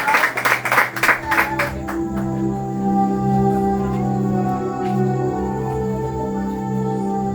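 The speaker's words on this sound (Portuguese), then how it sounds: "Pode sentar e bater uma salva de palmas para Jesus." A church congregation claps together in a quick burst of rhythmic applause lasting about a second and a half, then it gives way to sustained music.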